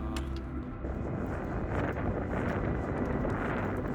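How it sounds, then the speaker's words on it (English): Strong wind buffeting the microphone on a steep mountain trail of the Annapurna Circuit in Nepal, a loud, steady roaring rush that fills the whole moment with no voices. "As the wind picks up"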